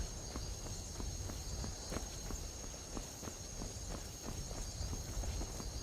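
Horse hooves clip-clopping on the ground in the video game Skyrim, a steady rhythmic walking gait of sharp hoof strikes over a faint high insect-like hiss.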